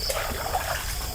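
Clear water trickling and babbling in a farm stream, close and steady throughout the brief moment with no voices.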